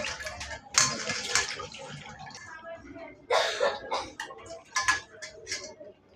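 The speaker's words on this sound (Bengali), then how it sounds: "মাছটা এখন ধুয়ে নিতেছি" Fish being rinsed by hand in water in a home kitchen while cooking a fish curry, with bursts of splashing and sloshing in irregular spurts, close by, along with small clinks and a throat clear.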